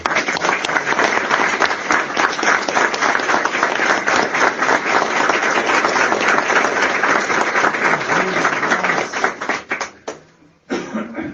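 A congregation at a Feast of Tabernacles gathering bursts into loud, dense applause that holds steady for several seconds, then thins into a few scattered claps and stops.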